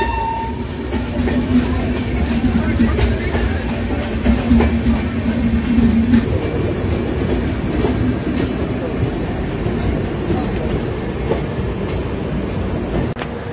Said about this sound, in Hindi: हमारी एक ट्रेन मिथिला एक्सप्रेस हावड़ा से जटोल के बीच चलने वाली अभी अराइवल ली है